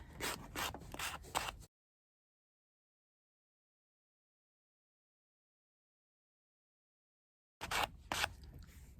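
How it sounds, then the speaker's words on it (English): Small cheap handheld sander rubbing over a painted wooden Valentine heart decor stand to distress it, a close scratchy grinding in two short bursts with a long silent gap between them. "Got my Dollar Tree sander. We're just going to sand it down a little bit."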